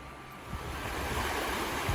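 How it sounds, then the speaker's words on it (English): Steady rushing water flows continuously at a Texas campground near the Mexico border, a broad close wash of noise with no voices. "You hear the water running?"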